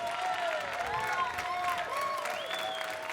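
An audience at a barista competition applauds a competitor, dense crowd clapping with some cheering, while an amplified voice or tone glides over the top.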